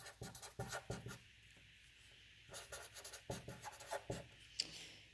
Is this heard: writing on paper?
yes